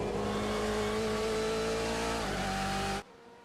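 Sim racing cars at Road America in a video game, a loud steady engine drone with pitch shifts and a brief tire squeal, cutting off abruptly near the end.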